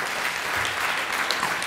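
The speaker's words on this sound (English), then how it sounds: "I wanted to give a round of applause to Jay's brother," A conference audience applauds Jay's brother, giving a steady, dense wash of many hands clapping that holds even throughout, moderately loud, with no speech.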